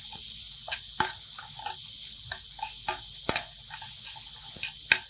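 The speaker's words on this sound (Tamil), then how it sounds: "இப்போ வெங்காயம் வதங்கிடுது" Onions sautéing in a pan for a capsicum gravy, a steady bright sizzle with a spoon stirring and scraping in intermittent clicks and taps, close and alone.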